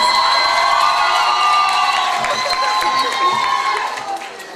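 Audience at a school Miss and Mister pageant cheers and whoops with a crowd roar, loud and steady before fading toward the end, with shouted voices mixed in.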